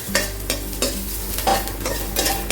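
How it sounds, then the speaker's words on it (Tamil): Crushed garlic fries in a little ghee in a pan for paruppu podi, a steady close sizzle broken by several sharp stirring scrapes, with no voices. "இந்த பூண்டை மட்டும் கொஞ்சம் போல் நெய் விட்டு இந்த பூண்டை வறுத்துக்கோங்க."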